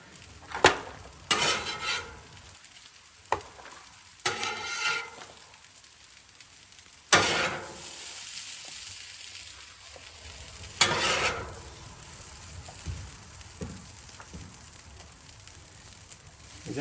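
Chicken fried rice stirred and scraped on a Blackstone flat-top griddle, with a soft steady sizzle broken by sharp metal spatula clanks and scrapes that come in bursts, close and fairly loud, with no talking.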